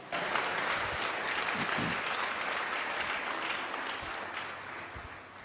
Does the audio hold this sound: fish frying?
no